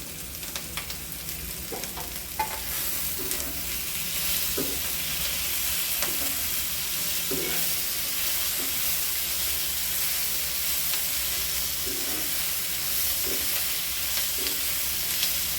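Tomatoes fry with browned onions for matar paneer, giving a continuous close sizzle and hiss, with soft spoon scrapes and taps recurring every second or two.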